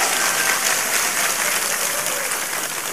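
An audience at a humorous religious sermon gathering in Tembar claps steadily in a dense, continuous burst of applause that stays loud for the whole stretch, with no voices rising above it.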